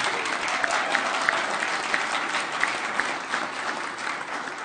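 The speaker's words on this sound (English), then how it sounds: "If y'all wouldn't mind giving her the same round of applause" An audience at a city council meeting gives a steady, moderately loud round of applause, sustained from start to finish with scattered sharper claps.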